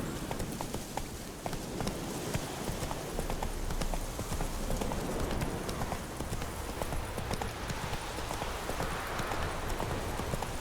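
Horse galloping in The Witcher 3: Wild Hunt, rapid rhythmic hoofbeats clopping steadily throughout, fairly close over a noisy outdoor background.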